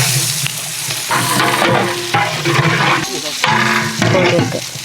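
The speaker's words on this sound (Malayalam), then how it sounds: "എണ്ണ ഒഴിച്ച് നമുക്കിനി കുറച്ച് ഈ ഉള്ളി വറുത്തെടുക്കാം" Oil sizzles and crackles loudly in a pan, with bursts of stirring and scraping recurring every second or so.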